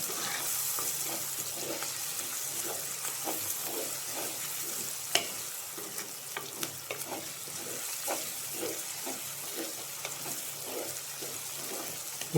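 Onions and curry leaves fry in a pan for a beef liver roast, giving a steady close sizzle with scattered stirring clicks and scrapes throughout, and no talking.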